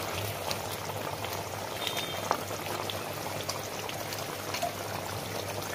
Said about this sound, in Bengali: ফুট হবে, আমি নামিয়ে নেবো।